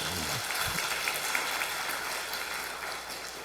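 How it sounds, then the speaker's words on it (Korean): A church congregation claps during a Sunday worship sermon, a dense, even wash of hand claps that holds steady for the full few seconds at moderate loudness. "이럴 때는 박수를 치더라고요."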